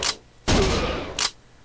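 Gunfire from the arcade shooter Virtua Cop 2 comes as three sharp, close blasts, one longer burst in the middle between two brief shots.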